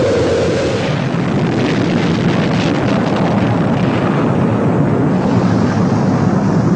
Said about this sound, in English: We've gone for main engine start. We have main engine start.